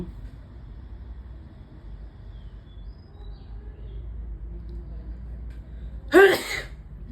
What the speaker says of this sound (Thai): ขออภัยด้วยนะพี่ในจามนะครับพี่